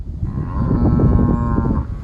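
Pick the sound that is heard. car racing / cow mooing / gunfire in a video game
cow mooing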